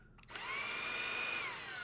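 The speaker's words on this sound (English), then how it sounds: "let's just put this in our drill here" A power drill spins up from near silence into a steady high whine, holds at speed for over a second, then begins to wind down, heard close and alone while holes are drilled to install window blinds.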